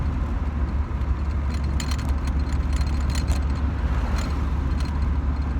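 A 1993 Alfa Romeo Spider Series 4 on the road, its engine droning steadily from inside the cabin with light rattles and knocks ticking over the low rumble.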